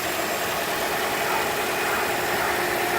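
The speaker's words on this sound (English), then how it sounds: "You see here, it runs very smooth. The car starts right up." A 2012 Toyota Corolla LE four-cylinder engine idles steadily, a smooth continuous hum with no break across the few seconds, fairly close and with no talk over it.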